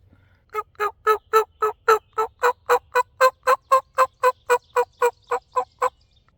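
A long run of about eighteen evenly spaced gobbling calls from wild turkey hens, loud and close, rising and falling in a steady rapid rhythm with no talking, outdoors in Ohio.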